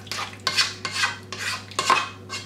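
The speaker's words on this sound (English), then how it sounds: "So I'm going to keep mixing this in." Macaroni stirred in a pot on the stove: a run of rhythmic metallic scrapes and clanks, roughly every half second, close and fairly loud, with no voices.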